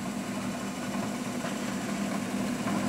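A spinning Bedini SSG motor wheel turning at about 130 RPM on a low primary battery gives a steady, even mechanical hum with constant vibration, close and unbroken.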